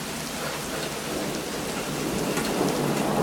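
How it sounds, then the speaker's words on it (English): Heavy rain pours down hard during a thunderstorm, a dense, steady hiss of water on surfaces that builds slightly in loudness, with thunder rumbling underneath and no talking. "Now it's pouring hugely."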